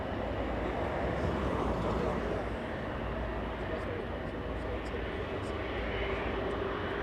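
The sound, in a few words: airplane on final approach to runway 24 right at LAX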